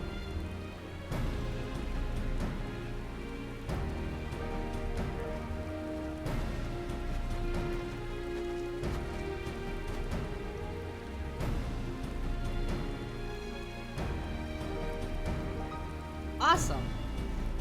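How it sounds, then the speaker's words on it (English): Steady rainfall in a cold area of the video game Final Fantasy XIV: Endwalker, a constant hiss of drops on surfaces running throughout beneath game music, with a brief sharp accent near the end. "Oh, now it's raining. Raining in this cold area."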